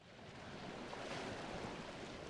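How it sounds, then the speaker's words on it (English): Blizzard wind in the Never Alone game, a steady, dense rushing roar that holds constant and fairly quiet throughout with no voices. "it stopped briefly and then became windy all over again"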